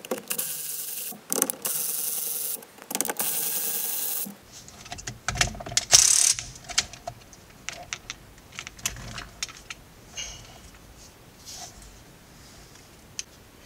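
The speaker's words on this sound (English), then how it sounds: "held on by what looks like another three T30 Torx bolts, so I think I have to take this off" A ratchet wrench clicks rapidly in bursts while T30 Torx bolts come out of a car steering wheel bracket, followed by quieter metallic clinks and handling noises, close up with no voices.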